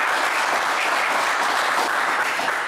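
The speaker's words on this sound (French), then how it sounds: "allez, on vous applaudit très fort" Studio audience applause on a French television game show. The clapping is loud and continuous, a thick, even roar from many hands that lasts a little under three seconds, with no voices over it.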